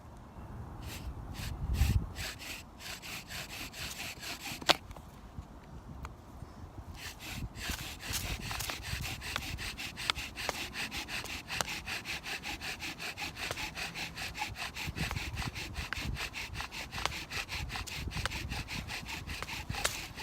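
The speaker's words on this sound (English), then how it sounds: "get an ember with a bow drill" Wood rasps against wood in a fast, steady back-and-forth rhythm of a bow drill, close and loud, with a few sharp breaths early on.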